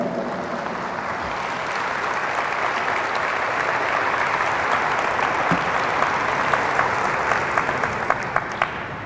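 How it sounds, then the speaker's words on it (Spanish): Congregation applauding during a church sermon: sustained, loud, even clapping from a large crowd that swells slightly and holds steady, with a few sharper claps standing out near the end. "Fuertes aplausos a Jesús."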